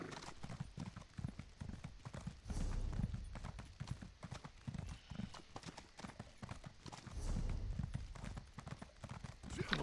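Hooves clip-clop at a steady gallop as a horse is ridden through Elder Scrolls Online, a continuous rhythmic beat with a brief whinny, close and fairly loud, with a voice talking briefly over it.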